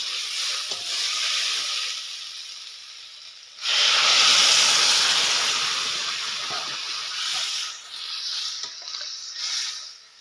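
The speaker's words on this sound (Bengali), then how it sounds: "সবজিটা ভাজা হয়ে গেছে, তো এখন ঝোলের জল দেই" Water is poured into a pan of fried cauliflower and vegetables for a curry with egg, and a loud burst of hissing steam rises, then slowly fades into a quieter sizzle, close up with no talking.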